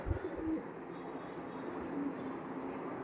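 Low, gentle cooing from Mastan breed pigeons drifts in quietly at a distance, a couple of brief coos set against constant ambient hum and no voices.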